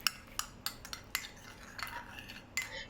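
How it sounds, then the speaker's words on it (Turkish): A spoon stirring pizza sauce loosened with olive oil and water, with several sharp metallic clinks against the bowl and soft wet swishes in between, close and quiet, with no voices. "şöyle bir karıştırıp suyla hafif açacağım"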